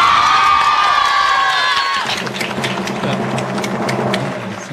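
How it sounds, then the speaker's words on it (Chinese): Studio audience applause on a Taiwanese variety show, a loud dense wash of clapping and cheering; a sustained high tone fades out early, and the crowd noise carries on steadily to the end. "那掌声给他鼓励一下好不好？"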